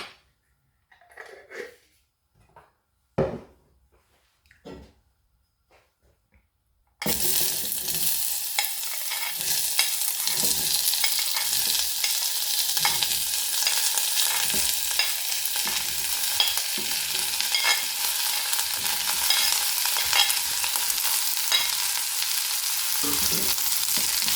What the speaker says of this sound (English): So I'm gonna add a bit of oil in this. It's just to saute the vegetables.